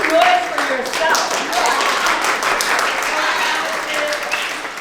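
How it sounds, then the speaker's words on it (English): Students give a round of applause at City Hall during a Black History Month art exhibit event in Paterson, with a steady, dense wash of clapping and cheering lasting throughout, and voices mixed in. "Give yourselves a round of applause."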